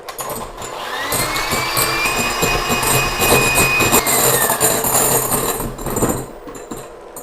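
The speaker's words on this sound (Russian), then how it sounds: "В белок я добавляю щепотку соли и начинаем взбивать белок" Egg whites with a pinch of salt being whipped by an electric mixer, a loud, continuous whirring hum with a rising pitch sweep and a dull rattle of beaters against the bowl.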